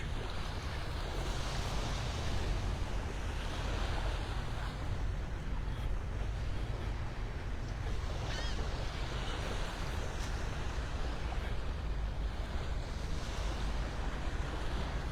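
Surf washes steadily onto a beach in North Naples, Florida, with wind buffeting the microphone during a walk along the shore, a constant broad rush of waves and gusts without talk.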